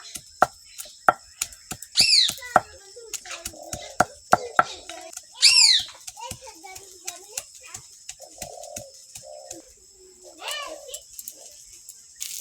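Garlic cloves are crushed by hand while cooking, a series of sharp, irregular thuds and knocks close by, with birds cooing and chirping in the background between strikes.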